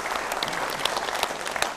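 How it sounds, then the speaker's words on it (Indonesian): Lively audience applause at a community event, brisk crowd clapping with sharp individual claps standing out over a dense steady patter. "kita beri tepuk tangan yang meriah."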